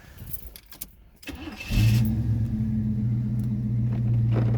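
Quiet rustling, then an El Camino's engine cranks briefly and fires up into a loud, steady low-pitched idle that holds to the end.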